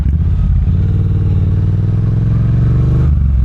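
A Triumph T120 motorcycle is ridden at speed, its twin-cylinder engine giving a steady, throbbing drone with a low rumble and a slight rise in pitch, close and continuous with rushing wind over it.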